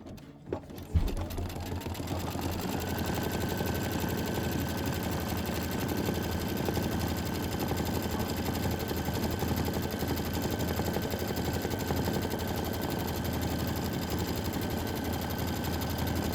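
A Kimberbell embroidery machine stitches a mittens block at a slowed speed, a steady mechanical whir and rapid needle chatter running continuously after a brief bump at the start.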